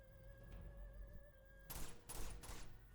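Gunfire in the action game Uncharted 2: Among Thieves: after a quiet, humming lead-in, a few rapid bursts of shots ring out, faint and somewhat distant.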